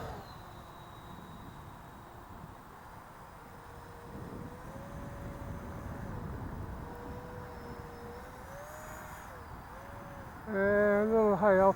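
FMS 64mm F-16 Thunderbirds RC jet with an electric ducted fan flying at full speed, a steady whooshing fan drone with rising and falling pitch as it passes, growing louder near the end.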